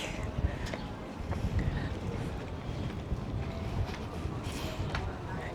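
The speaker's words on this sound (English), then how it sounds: "A little bit windier today as well" Wind on a walk near the beach in Albufeira, a steady low rumbling buffet against the microphone lasting throughout, with faint background sounds mixed in.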